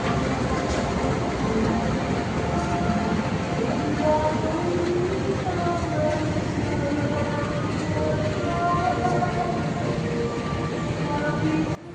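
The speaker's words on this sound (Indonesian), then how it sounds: "Di jalur 1 kita menemui rangkaian kereta api Kertanegara dengan relasi Purwokerto menuju ke Malang." Kertanegara passenger train, running Purwokerto to Malang, at a platform of Purwokerto station: a steady, loud rumble of rail cars with broadband noise throughout and faint tonal squeals over it, in light drizzle.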